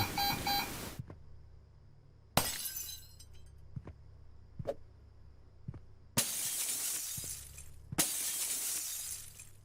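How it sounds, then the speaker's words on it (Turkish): A glass window shatters in the Thief Simulator 2 video game, with several loud crashes separated by quieter gaps. Brief clinks and thuds fill the pauses between them. "Camı kırarım ha."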